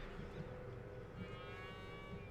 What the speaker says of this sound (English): And there's mooing.